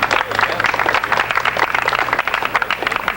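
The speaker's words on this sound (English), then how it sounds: "Round of applause, Miss Ling Po, everyone." A studio audience claps and applauds for Miss Ling Po on a 1998 coffee house talk show, a dense, steady wash of hand claps lasting throughout with a faint low hum beneath.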